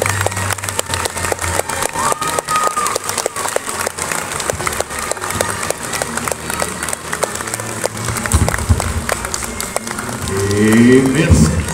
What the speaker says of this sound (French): vous pouvez leur faire un tonnerre d'applaudissements